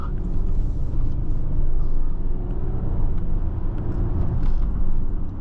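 Inside a 2019 Audi Q8 3.0T Prestige Quattro while accelerating, a steady, loud low engine and road rumble fills the cabin without a break, with no talking over it.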